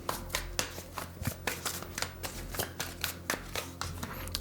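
Tarot cards shuffled by hand in a steady riffle, a quick run of crisp flicks and soft slaps, close and fairly quiet with no voices.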